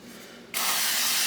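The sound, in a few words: spraying cooking oil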